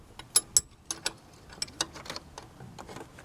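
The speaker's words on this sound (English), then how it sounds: "I hooked another box end wrench up onto there" A box end wrench fitted onto the serpentine belt tensioner of a 2000 Town & Country with a 3.3L or 3.8L engine, making sharp metallic clicks and ratcheting ticks in an irregular run, close and fairly quiet.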